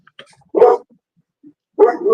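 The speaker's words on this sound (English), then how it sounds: "What kind of dogs you got? Sound like some big dogs." Big dogs bark twice in separate deep, loud woofs at moderate distance, with quiet gaps between.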